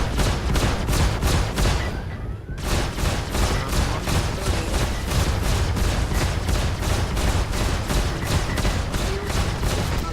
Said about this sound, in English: I took a lot more shots than I normally would anticipate.